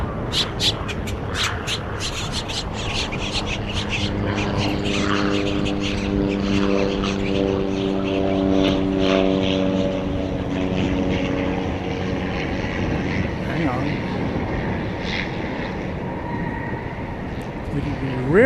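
A cargo aircraft, a Super Cargomaster, lands at DFW airport at night, heard as a loud, sustained engine and propeller drone with a steady tonal hum, continuous for the whole stretch.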